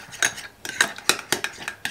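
Mayonnaise and ketchup stirred together with a spoon in a bowl: a run of about seven sharp, close clinks and scrapes of metal against the dish, spaced irregularly, with no talking.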